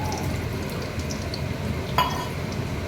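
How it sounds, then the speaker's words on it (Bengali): Onions frying in hot oil in a home kitchen, a steady dense sizzle running throughout with one brief clink of a utensil partway through. "তেল গরম হয়ে গেছে। এইবার আমি একে একে পেঁয়াজগুলো দিয়ে দেব"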